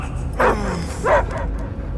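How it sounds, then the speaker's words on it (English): A dog in the Guardians of the Galaxy video game lets out two short, loud barks about half a second apart, clear and close over a low background hum. "I hear only barking."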